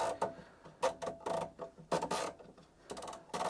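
A Ricoh Ri1000 DTG printer with a sleeve platen set too high grinds and clatters in irregular mechanical bursts, close and fairly quiet, as the print head jams against the platen.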